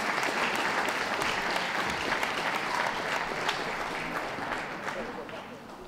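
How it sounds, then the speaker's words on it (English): Sustained applause from a crowd at an outdoor terrier group judging ring at a dog show, steady dense clapping throughout that thins slightly toward the end, with a voice speaking faintly beneath it. "Round of applause for those leaving the ring"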